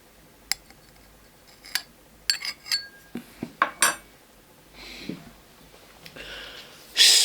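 Spoon adding water to a whisky glass holding Balmenach 9-year-old cask-strength Scotch, heard as scattered light clinks and taps of metal against glass, close and fairly quiet with soft pauses between.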